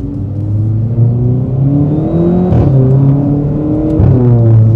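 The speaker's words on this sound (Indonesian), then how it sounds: "Cakep suara knalpotnya." A VW Polo with a custom exhaust revving close by, a loud steady engine drone that swells and rises in pitch several times, with no talking.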